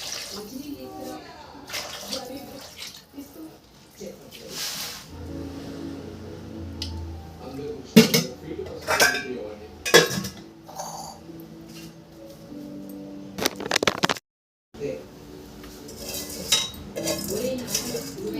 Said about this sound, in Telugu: బియ్యం వేసేస్తున్నాను